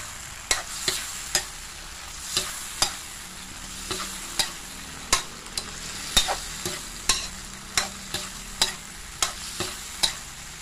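Long beans being stir-fried in a pan for a Thai basil stir-fry, with a constant sizzle and regular sharp scrapes of the spatula against the pan, close and clear.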